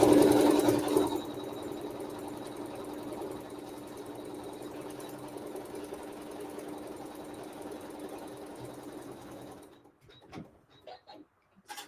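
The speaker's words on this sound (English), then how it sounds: "just hit the start button. And it's going to sew all this together" A sewing machine stitches fabric with a steady, continuous mechanical whir and hum that runs close and even for most of the clip, then cuts off near the end, leaving a few faint clicks.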